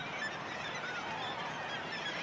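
A dense kittiwake breeding colony calls continuously, a steady faint wash of overlapping high seabird cries with no single call standing out.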